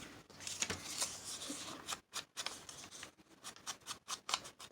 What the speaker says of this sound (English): The decorative scissors really make it look nice on the edge.